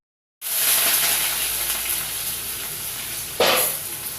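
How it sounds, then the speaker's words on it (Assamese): Dried fish (hukan bhaji) dropped into hot oil, a loud sizzle bursting in after a moment of silence and hissing steadily, with a fresh flare of sizzling near the end. "আজি আমি হুকান ভাজি বনাবলৈ লৈছো"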